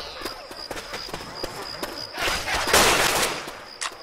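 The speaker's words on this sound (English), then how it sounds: "let's stop shooting each other, please" Rapid gunfire between players in the zombie shooter Left 4 Dead 2, a string of sharp evenly spaced shots followed by a louder dense burst of fire near the end, with faint talk underneath.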